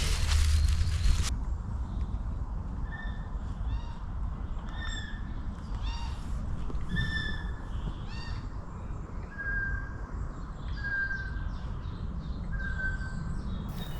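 Repeated harsh bird calls ring out in a steady series over a soft outdoor background, fairly distant, with a brief loud thump at the start.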